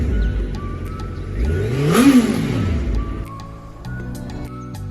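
A Suzuki Hayabusa 1300cc superbike engine revs hard, its note sweeping up to a loud peak and then falling back. The engine settles into a lower, steadier idle toward the end.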